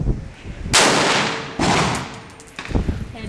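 SCAR rifle shots fired outdoors at a target: two loud sharp reports about a second apart, each trailing off in a long echo, then a fainter third shot near the end.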